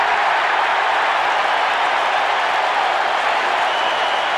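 A football stadium crowd roars steadily at a 1985 Chicago Bears at San Francisco 49ers game, a broad, constant wash of distant cheering and noise with no pauses.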